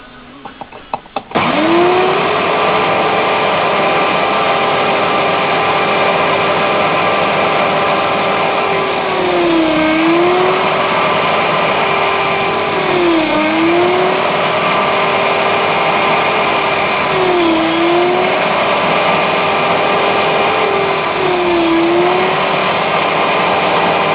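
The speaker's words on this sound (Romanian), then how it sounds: "Vă prezint mașina de găurit rame, model Neion Pătruț." Homemade Neion Pătruț frame drilling machine boring three pieces at once, a steady loud motor whine that dips in pitch several times as the bits bite into the material, running alone without talk.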